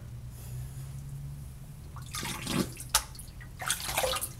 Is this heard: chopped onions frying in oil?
no